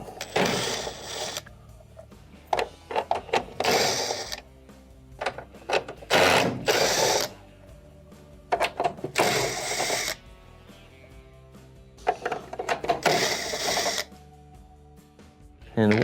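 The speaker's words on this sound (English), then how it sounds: "there are multiple 1/4-inch screws that will have to be taken out" A power screwdriver backs out quarter-inch screws from a dryer's control board, with repeated short whirring bursts separated by brief pauses.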